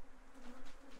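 Bees hum in an overwintered Apimaye hive that is only partly opened on a cold spring day, a steady close drone with a low tonal hum holding through the whole second.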